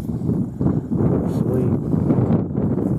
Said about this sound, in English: The wind's terrible.